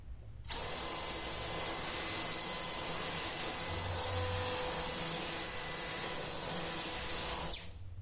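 A high-pitched cordless brushless jet fan blower drying a wet motorcycle whines steadily for about seven seconds with a sharp tonal scream, starting and stopping abruptly, close and loud.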